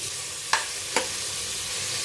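Chopped garlic dropped into hot coconut oil in a pan gives a steady, close sizzle, with two brief clacks as it goes in.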